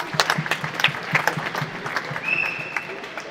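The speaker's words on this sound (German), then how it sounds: "Applaus." Audience at a basketball club fan talk applauding, scattered distinct claps in an uneven rhythm over a quiet room, with a brief whistle-like tone partway through.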